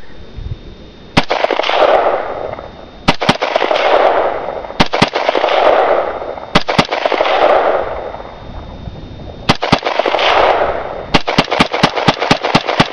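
A gun test-fired outdoors in cold weather: loud, close single shots spaced a second or two apart, each followed by a long rumbling echo, ending in a rapid string of closely spaced shots.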